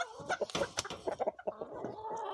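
A rooster clucks in a farmyard pen, a quick run of close, choppy clucks and short calls, loud and irregular, trailing into softer murmuring at the end.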